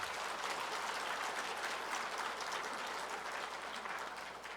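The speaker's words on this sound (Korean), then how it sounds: "그냥 박수" A church congregation applauds during a Sunday sermon, a faint, distant wash of many hands clapping that holds steady and then tapers slightly toward the end, with no speech.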